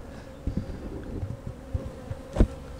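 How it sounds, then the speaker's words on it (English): Honey bees buzz around a hive during a late liquid feeding before cold weather, a soft steady drone close by, punctuated by a few light knocks and clicks from handling the hive cover. "So yeah, look at the bees."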